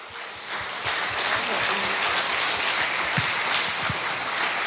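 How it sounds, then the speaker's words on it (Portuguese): Congregation applauding during a Portuguese-language church service: rhythmic, fairly even clapping from many people fills the hall, with a few sharper individual claps standing out near the end. "Aplauda o nome do Senhor."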